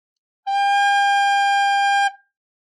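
Recorder sounding a lone sustained G for roughly a second and a half, bright and even, close up with nothing else in the background, part of a beginner tune lesson.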